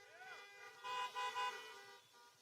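Car horns toot over one another at a drive-in rally crowd event, a steady layered honking that swells louder midway, mixed with voices.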